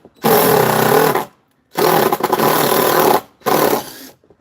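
Power drill driving a screw backwards through sheet metal into a board, heard as three loud whirring bursts of about a second each, separated by short pauses.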